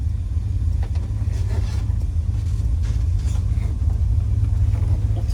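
A 1970 Plymouth GTX with the 440 Six Pack V8 idles steadily, its deep, loud low rumble running unbroken throughout with no talking over it.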